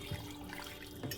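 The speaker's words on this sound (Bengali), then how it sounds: "তো এখন দিয়ে দেবো এর মধ্যে জল" Water poured in to wash cauliflower leaves gives a soft, steady running-water wash, faint and continuous, with a slightly louder splash near the end.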